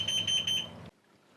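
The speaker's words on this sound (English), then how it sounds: "I just have to wait for it to stop beeping" A high-pitched electronic carbon monoxide alarm beeps in a rapid series of short chirps near a running diesel heater, then cuts off abruptly into near silence.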